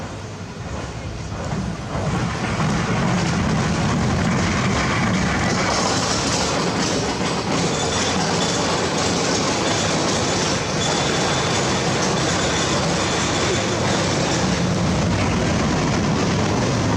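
Open-air theme park train ride at Dollywood, a steady rumble of rolling cars and rail clatter running throughout, with people talking faintly over the continuous noise.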